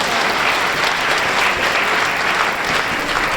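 A loud, dense ovation from an audience at a literary talk, sustained clapping filling the whole stretch with barely any voices.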